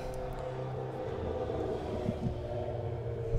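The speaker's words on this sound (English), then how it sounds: "Large motorcycle went by." A steady low engine roar holds throughout, loud and continuous like a heavy motorcycle passing close by, with no voices.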